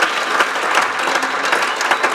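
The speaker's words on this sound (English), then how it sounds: "just to give him another round of applause" An audience applauds after a dance performance at an evening event in Bermuda, giving a dense, steady clapping that carries through at a strong level from start to finish.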